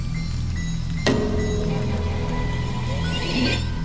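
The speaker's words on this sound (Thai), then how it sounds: "เสียงหยดน้ำฝนกระทบหลังคา" Rain on a roof at night, a steady broadband patter running the whole time with a low droning background and a brief sharp accent near the start; no talking.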